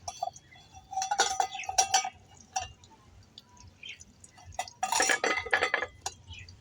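A metal bowl is lifted off egg paratha dough, giving a few faint, scattered metallic clinks and knocks in a quiet kitchen.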